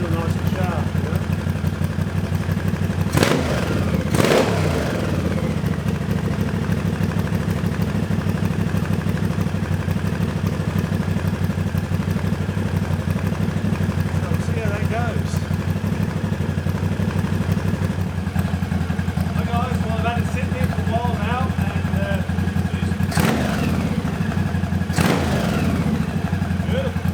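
A Honda CX500/650 motorcycle engine with a carburetor float problem runs at a steady, loud idle for a long stretch, with a few sharp throttle blips and a voice briefly audible in the background.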